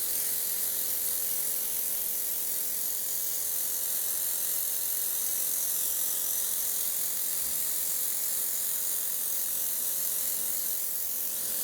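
An airbrush foundation system runs as a steady, even mechanical whir with a faint hiss throughout, alone and unchanging.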